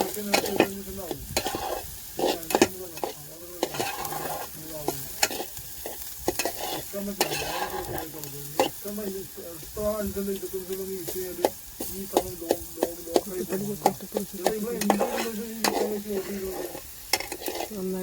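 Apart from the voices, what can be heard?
stir-frying dried fish with green chillies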